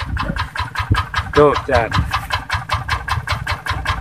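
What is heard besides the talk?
tractor engine running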